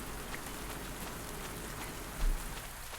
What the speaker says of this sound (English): I'm enjoying the rain